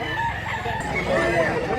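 A gamecock rooster, about eleven months old, crows at a Cebu poultry yard, its call held against a steady background of other fowl and voices.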